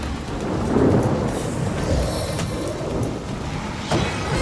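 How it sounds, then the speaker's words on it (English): Heavy rain pours steadily across a fantasy video game scene, Divinity: Original Sin, with low rumbles of thunder rolling beneath a dense, hissing downpour and no talking. "From drizzle to deluge."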